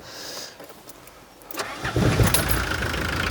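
An old turbo diesel Renault Espace engine cranks briefly in freezing weather, then catches and starts, settling into a loud, rough idle close by.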